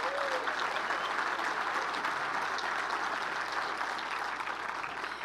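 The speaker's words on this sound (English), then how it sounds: "Please join me in giving them a round of applause" An audience at a city's State of the City address gives a round of applause, a dense, even clatter of many hands that holds steady throughout, fairly close and with no voices over it.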